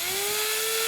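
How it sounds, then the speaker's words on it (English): An electric drill twists wire for an HO scale model tree. It gives a steady high whine whose pitch rises slightly over a short, continuous run. "I'm going to slip the loop at the top through a curved piece of metal in my drill and"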